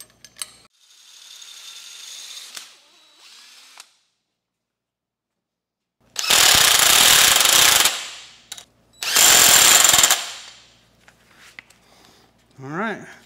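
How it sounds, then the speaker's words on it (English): A power drill bores a hole in a hay mower sickle bar part in two loud, steady bursts of grinding, close by, with quieter mechanical handling noises between and after. "And we have a nice mark where I'm supposed to drill a hole."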